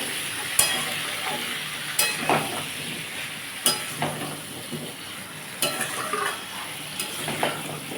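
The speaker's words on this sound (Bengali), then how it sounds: "আমি এই তেলের মধ্যে আলু আর কুমড়োটা দিয়ে দিয়েছি এবার এটাকে আমি ভালো করে ভাজবো" Potato and pumpkin pieces fry in hot oil with a continuous sizzle while a spatula scrapes and taps the pan at irregular intervals, close and moderately loud, no speech.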